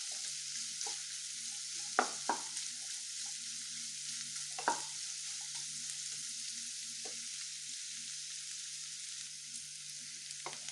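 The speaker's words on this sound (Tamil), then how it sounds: "இப்போ 2-3 நிமிஷம் நல்லா வணக்கி விட்டுங்க" Vegetables sauté in coconut oil, a soft and even sizzling hiss that runs throughout, broken by a few light knocks and scrapes of a utensil against the pan.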